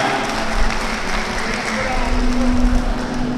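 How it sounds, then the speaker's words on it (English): Audience clapping at a vice mayor's oath-taking ceremony in Aloran, a steady broadband wash of applause held at even loudness throughout, with a low hum and some background voices mixed in. "I'm going to request everyone to clap their hands for the glory of God."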